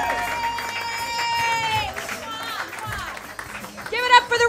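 An audience at a comedy roast show claps and cheers for a comedian, with crowd noise and applause running under loud voices and whooping throughout.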